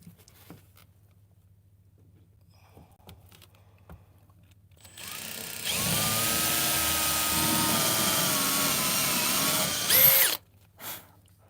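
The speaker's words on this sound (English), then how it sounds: "And then we got a second drill with the screw on it." A power drill drives a screw into a wooden wall panel inside a box truck, a close, loud whirring run of about five seconds that ends in a short burst, after quiet background ticking.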